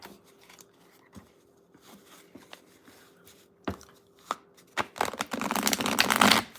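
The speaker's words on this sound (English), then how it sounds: "Just gonna shuffle these up good." A tarot card deck is shuffled close by in a quiet room, at first as soft scattered taps and flicks, then building into a louder, continuous papery riffle near the end.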